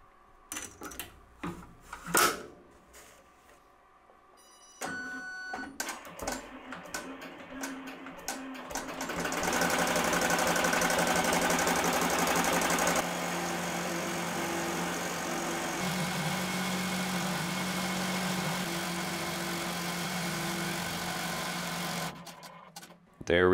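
Embroidery machine stitching a jet tag, starting with scattered clicks and thumps, then settling into a steady, loud mechanical whirring that runs for more than ten seconds before stopping near the end.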